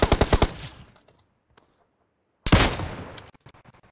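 Automatic gunfire in the mobile shooter PUBG Mobile: a rapid close burst of five or six shots that fades out, a short quiet gap, then another loud burst with a rattling tail.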